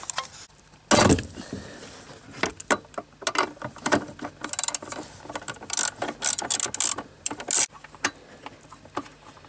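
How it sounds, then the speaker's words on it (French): A wrench ratchets and clicks while a metal cover is unbolted on a Mazda MX-5 ND, close up: a loud clatter first, then quick bursts of metallic clicking and tool knocks. "On n'a plus qu'à aller chercher une clé et à démonter ce capot métallique"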